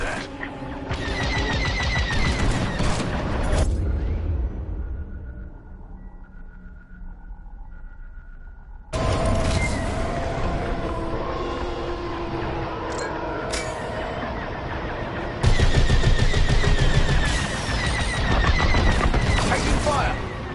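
Turrets on a station open up with rapid blaster gunfire in the Star Wars: Squadrons space combat game. Loud bursts come in long stretches separated by a quieter lull with a low drone, and a voice speaks between them.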